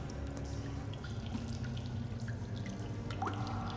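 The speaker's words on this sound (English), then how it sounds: "the quiet and gentle passing of water and drips of condensation take over the tunnel again" Water dripping in a tunnel, scattered small drips and trickles over a low, steady ambient rumble, faint and spacious, with no talking.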